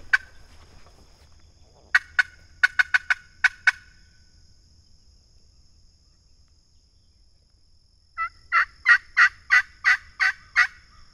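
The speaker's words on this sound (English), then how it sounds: "Turkeys are coming home." Wild Osceola turkeys gobble on public hunting land, with two bouts of rapid, rattling gobbles, the second longer and louder, set against quiet woods with a faint insect hum.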